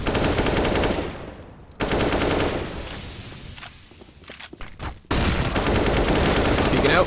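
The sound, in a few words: AK rifle gunfire in the video game Counter-Strike on Cache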